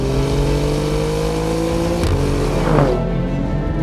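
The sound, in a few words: Alfa Romeo Giulia Quadrifoglio car engine revving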